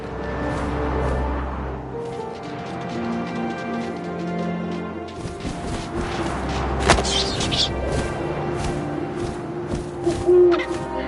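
An owl hoots in the video game What Remains of Edith Finch, low hoots sounding at the start and again midway, mixed with wind, soft rustling and a few thuds in the game's ambience.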